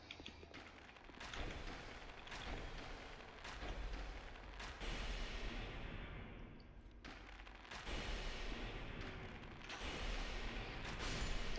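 Gunshots aimed at a bandit in a Dark Souls 2 mod: several sharp, separate shots spaced a second or more apart over a steady low ambient background, each a sudden crack that fades quickly.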